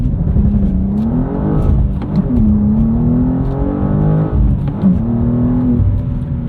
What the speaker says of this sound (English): Okay, let's try launch control.